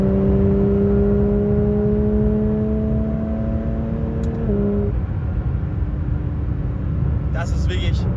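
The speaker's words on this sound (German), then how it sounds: "so hört sich zum Beispiel an, wenn man mal ein bisschen beschleunigt" A Porsche 911 992 GT3 RS race car accelerates from inside the cabin, its engine tone climbing steadily then dropping with a gear change over a constant loud road rumble.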